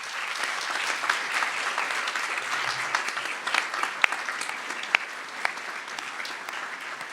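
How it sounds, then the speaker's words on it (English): An audience at a Kent State Stark commencement ceremony claps steadily for past Distinguished Teaching Award recipients, a dense, sustained round of applause with a few sharper individual claps standing out. "please join me in giving them a round of applause"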